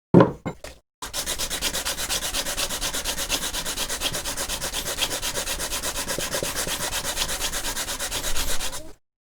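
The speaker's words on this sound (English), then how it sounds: "We need to sand this mouthpiece flat so we can glue the frame like this one on here" A saxophone mouthpiece being sanded flat, giving a steady, close, continuous rubbing rasp after a few brief opening strokes, with no talking.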